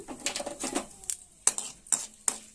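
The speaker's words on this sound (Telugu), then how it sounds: "ఇవి బాగా ఎగుతాయి కదా, దూరం పగలుతాయి" Sharp crackles and pops burst out one after another, irregular and fairly close, with faint hissing between them and no voices.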